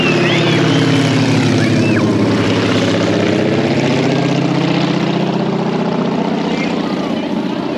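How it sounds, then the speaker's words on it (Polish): A propeller aircraft makes another low pass overhead, a loud, steady droning engine roar with a wavering pitch that holds throughout. "Pilot robi kolejny nalot."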